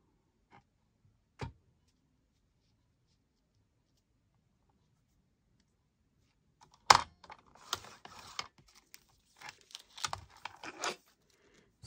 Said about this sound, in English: let's do them in the machine, in the guillotine